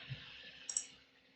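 Computer mouse clicks during a software demo, a soft click followed by a quick, faint double click over a quiet background hiss, no talking.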